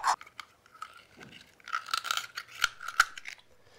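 Knife prying open a cherrystone clam at the hinge, close scraping and crunchy clicking of blade on shell with sharp cracks in short bursts.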